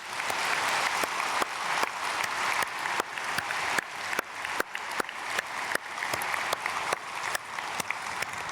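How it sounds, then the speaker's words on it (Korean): Church congregation applauding at a dawn prayer service, a steady sustained wash of many hands clapping with distinct sharper claps standing out, even and unbroken throughout. "박수로 축복하겠습니다."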